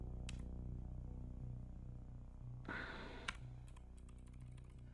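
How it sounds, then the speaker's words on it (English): Someone types on a new computer keyboard in a quiet room, producing a quick burst of clustered clicks midway and scattered single keystrokes before and after over a steady low hum. "I am typing very poorly with it."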